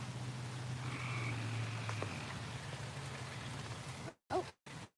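A frog croaks outdoors in a low, steady drone over a wet, rain-like hiss, with a few sharper rustles and dropouts near the end.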